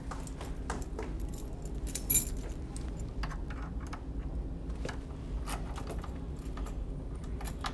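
A bunch of keys jangles in a steady metallic rattle throughout, close and fairly busy, with a brighter clink partway through and no talk over it.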